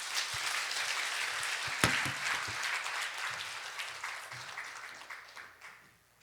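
A congregation applauds in a church at a Korean Friday evangelism school, steady sustained clapping with one sharp louder clap, gradually fading toward the end.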